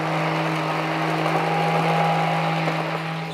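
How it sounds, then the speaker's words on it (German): Immersion blender puréeing a celery-apple cream soup, a steady continuous motor whir with a strong low hum holding for the whole stretch, close and fairly loud with no talking. "Wir haben hier jetzt einen Stabmixer."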